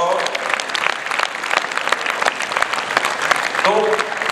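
Loud, dense audience applause at a judo league New Year ceremony featuring a Koshiki no Kata demonstration in armour, filling nearly the whole stretch before a speaker's voice returns near the end.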